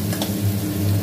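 Onions sautéing in a pan for a Tamil drumstick kuzhambu, a steady low sizzle with faint stirring scrapes, close and continuous, no voices.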